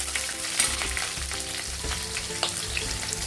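Onion added to a pan of browned garlic sizzles and fries steadily, with a few sharp crackles and stirring scrapes throughout, for a Malwani chicken curry.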